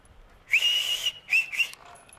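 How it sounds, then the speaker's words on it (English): A dog training whistle used for recall during basic obedience training: one long shrill blast followed by two shorter ones, loud and close, with no talk. "Recall off of the whistle."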